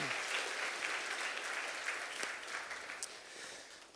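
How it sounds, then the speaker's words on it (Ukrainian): Audience applauding at a business presentation on buying apartments in new developments, a steady wash of clapping from a room of people that fades slightly toward the end. "Ви мене підтримаєте своїми аплодисментами."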